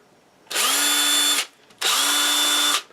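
Two bursts of a Ryobi 18V cordless drill running on a rebuilt battery, each a steady high whir about a second long with a quick spin-up and wind-down, close and loud with a short pause between.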